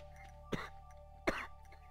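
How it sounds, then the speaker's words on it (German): Two short, sharp coughs from a person about three quarters of a second apart, each a brief rasping burst over a steady electrical hum with faint background noise. "Oh, dieser Husten, ne?"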